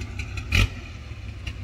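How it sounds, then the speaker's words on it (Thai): A Toyota Revo 4x4 pickup revs its engine close by while trying to pull a sugarcane trailer truck stuck in sand, a steady low rumble rising in one short, louder burst partway through. "4คูณ4ครับจะช่วยดึงนะครับรีโว"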